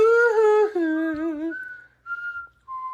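A person whistles a short, wavering tune, with pitch slides and brief pauses between phrases, close and clear with no talking.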